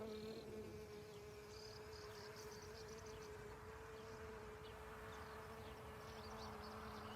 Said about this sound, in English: Oh, there we have a bee at this caper flower.